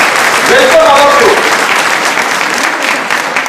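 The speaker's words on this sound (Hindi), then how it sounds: "दोस्तों, इनके सभी के स्वागत के लिए जोरदार ताली होनी चाहिए।" Loud applause from a hall audience welcoming first-time attendees at a business event, a dense burst of clapping that stays strong and slowly eases, with brief overlapping voices early on.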